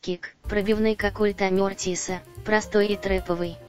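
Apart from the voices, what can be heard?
No everyday noises stand out.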